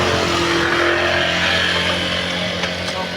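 A motorbike rides along a road toward home in a barangay, its engine droning steadily and loudly throughout with wind rush, no talking.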